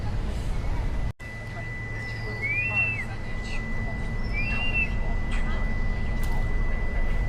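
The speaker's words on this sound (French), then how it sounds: "Il appelle les poissons avec le sifflet" A man blows a whistle to call goldfish, two short rising-and-falling notes a second or two apart over steady outdoor background noise and murmuring voices, with a constant high hum throughout.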